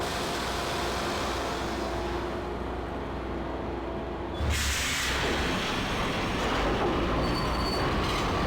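A subway train in the video game Max Payne roars past nearby, its rumble and rail squeal swelling suddenly midway and staying loud to the end.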